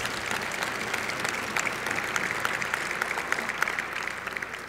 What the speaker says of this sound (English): Let's hear a big round of applause now for Cypress Credit Union.